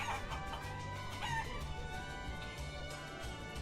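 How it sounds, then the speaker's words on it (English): A chicken in the video game Guacamelee clucks and crows repeatedly, layered over steady game music and ambience. "What's with that chicken?"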